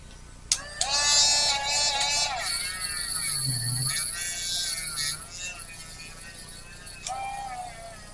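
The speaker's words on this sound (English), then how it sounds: "That's what I get with using a battery operated Dremel." A battery-operated Dremel rotary tool whines at high pitch in bursts, close and loud, with brief pauses and a lower hum between runs.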